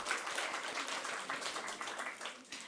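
An audience at an online-safety conference claps their hands, a soft, fairly distant patter of many scattered claps that runs steadily throughout.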